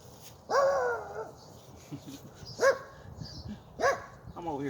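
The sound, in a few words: neighbor's dog barking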